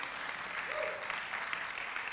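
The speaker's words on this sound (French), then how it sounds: "On va l'applaudir" Steady applause from a church congregation after a sermon on walking in unity, a dense wash of clapping at moderate level with a brief voice rising through it.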